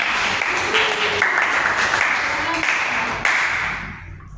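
Applause from a classroom audience during a micro-teaching lesson fills the whole stretch as steady, dense clapping, with a few sharper claps near the end as it fades.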